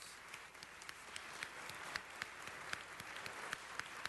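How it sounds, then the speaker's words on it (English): Attendees at a city council meeting give a round of applause, a steady, distant wash of many hands clapping with a few sharper individual claps standing out, fairly faint throughout. "let's give our future a round of applause"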